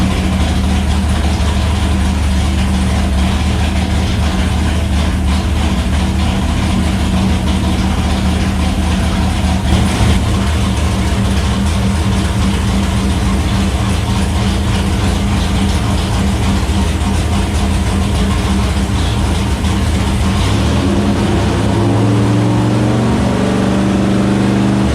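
A 600+ hp 505 big block Mopar with an M1 tunnel ram runs on a dyno, a loud continuous heavy rumble that holds steady at high revs before easing toward idle near the end.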